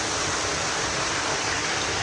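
Waterfall at Switzer Falls pouring into a small pond, a steady dense rushing roar heard close and unbroken throughout, with no voices.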